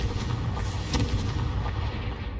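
Confringo fire spell exploding in the video game Hogwarts Legacy: a loud, dense burst of booming, crackling blast that rolls on for about two seconds, close and heavy, with no talking over it.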